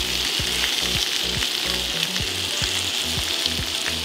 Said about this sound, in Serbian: I nastavit ćemo da pržimo.